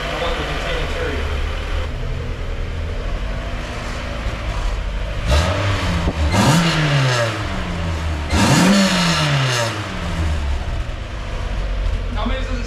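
Mazda Miata engine on its first startup after a budget build, idling then revving in two rising and falling sweeps, close and loud, with people talking over it.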